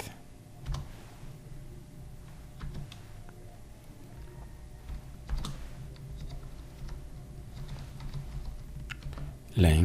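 Keys clatter on a computer keyboard in scattered short bursts and single clicks over quiet room hiss, with a louder knock at the very end.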